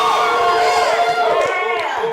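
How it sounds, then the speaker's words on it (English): Crowd cheering and whooping at a reunion show taping, a lively mix of excited shouts and voices swelling and dipping close by, with people talking among the noise. "Let's give a round of applause for her, please."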